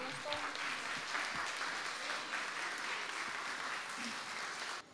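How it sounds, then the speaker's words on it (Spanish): An audience at a preschool graduation ceremony in Miraflores applauds steadily for about five seconds, a dense wash of clapping at moderate distance that stops abruptly at the end. "pido un fuerte aplauso"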